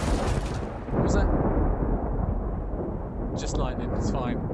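Thunder from lightning in the VR horror game Affected: The Manor, set in a dark manor: a deep, heavy rumbling roll that swells and lingers, loud and close, with brief voice fragments over it.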